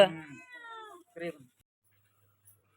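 A cat gives a drawn-out, wavering meow followed by a short second meow, close and clear, then silence.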